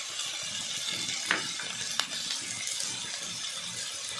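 Kaju kurma masala with cashews, garlic, coriander and fresh coconut sizzling steadily in a pan, with a couple of sharp clinks of a spoon stirring against the metal, no talking.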